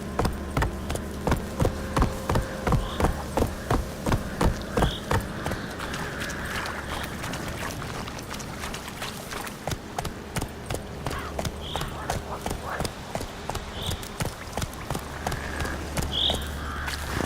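Roach the horse gallops in The Witcher 3 video game, with rapid rhythmic hoofbeats drumming steadily over a low background, slowing briefly midway before picking up again.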